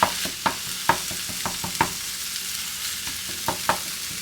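Ground meat for bolognese sauce sizzles and fries in a pan under repeated sharp spoon scrapes and stirring knocks that come in uneven bursts over a constant frying hiss, close and clear.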